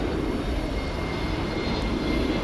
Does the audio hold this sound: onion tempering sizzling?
no